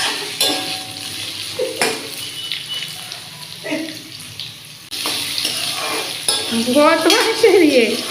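Dalia being stirred in a kadai on the stove, with scraping spoon strokes and a soft sizzle of cooking, joined near the end by running water and clattering.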